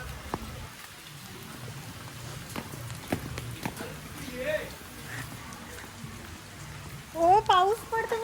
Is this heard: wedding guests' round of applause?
no